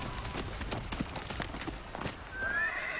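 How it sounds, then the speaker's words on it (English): Rapid hoofbeats of horses pound in a galloping rhythm down a hill at night, then a horse neighs loudly near the end. "horses appeared in the moonlight, galloping down the hill towards the inn."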